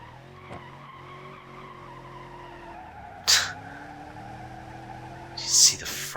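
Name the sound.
car spinning out and skidding in BeamNG.drive video game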